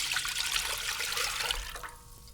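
Low-sodium chicken broth poured into a large heavy-duty pot, a continuous splashing liquid rush that fades sharply near the end, leaving quiet room tone.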